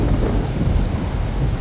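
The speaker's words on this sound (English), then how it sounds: "Thunderstorms make me nervous." A thunderstorm rumbles in the stealth game Splinter Cell: Chaos Theory, a continuous deep roll of thunder with rain and wind noise, loud and unbroken, no voices.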